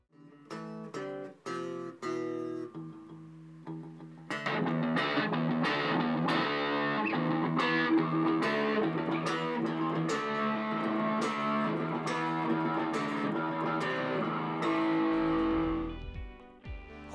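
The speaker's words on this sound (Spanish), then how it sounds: "El GB2 ofrece un sonido heavy y la capacidad de moverse entre ligeros overdrives y grandes distorsiones." Electric guitar played through a Marshall GB2 Governor Plus distortion pedal, a few picked notes and chords first, then a thick, sustained heavy distorted riff that rings on loudly before fading.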